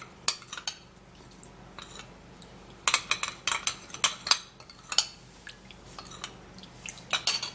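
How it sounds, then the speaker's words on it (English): A spoon stirs a cucumber and turmeric mixture in a bowl, clinking and scraping in quick irregular bursts at close range, with quieter pauses between and no voices. "I'm going to stir this all up and make sure it mixes really well."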